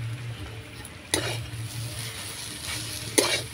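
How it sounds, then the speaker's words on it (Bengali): Pea chop filling with chopped coriander stirred in a pan, a steady low sizzle broken by two sharp spatula scrapes, one early and one near the end. "দিয়ে একটু নাড়াচাড়া করে নামিয়ে নেব।"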